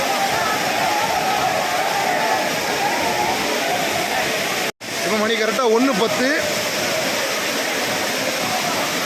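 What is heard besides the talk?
Courtallam waterfalls, water falling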